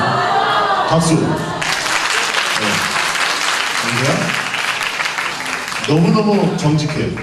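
An audience at a church conference gathering bursts into applause that lasts several seconds, with a speaker talking before it and again as it ends.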